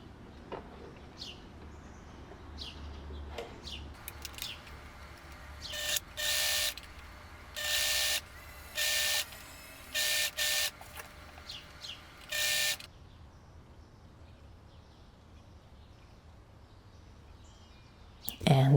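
A sewing machine stitches the folded hem of a puff sleeve dress in several short, moderately loud bursts of whirring, separated by quiet pauses, with faint background noise between runs.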